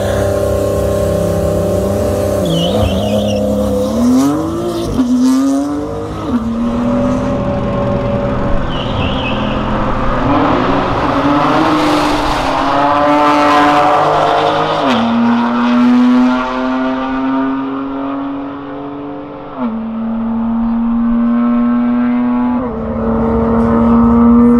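A 750-horsepower Porsche accelerates hard close by, its loud engine note rising through several gear changes with clear pitch drops between shifts, then holding a steady high drone.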